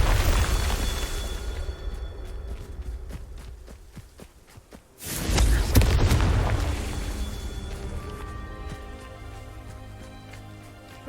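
A Confringo blasting spell explodes in the Hogwarts Legacy video game, a sudden loud boom at mid-clip with a rumbling burst and debris, set among ongoing combat effects and steady low game noise.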